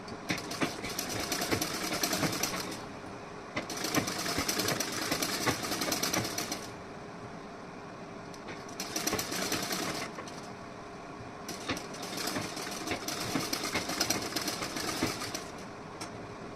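A domestic sewing machine runs a seam half an inch inside the fabric edge of a designer neckline, in several loud sustained bursts with short pauses between, no talking.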